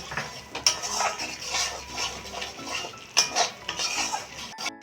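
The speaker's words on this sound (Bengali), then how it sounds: "পেঁয়াজের সঙ্গে এটাকে তিন মিনিট কষিয়ে নিচ্ছি অল্প পরিমাণে একটু জল দিয়ে দিচ্ছি দিয়ে ভালো করে কষিয়ে নিচ্ছি" A spoon scrapes and clinks against a pan as egg curry masala with onion is stirred and sautéed, irregular metallic knocks over a soft background sizzle with no talking.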